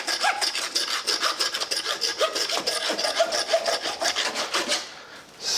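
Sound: saw cutting through a veal forequarter rib cage

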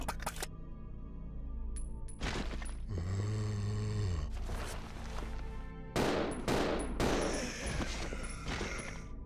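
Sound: automatic gunfire in the video game Resident Evil 0

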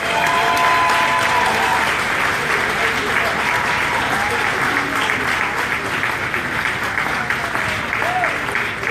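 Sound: audience applause at Elvis festival

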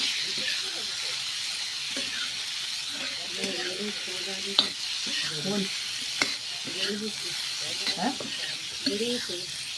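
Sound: masala sautéing in a pan

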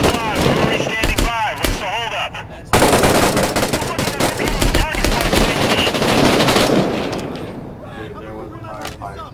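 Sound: machine gun fire in a firefight, from a video game

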